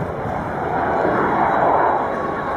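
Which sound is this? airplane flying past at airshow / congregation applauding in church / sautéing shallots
airplane flying past at airshow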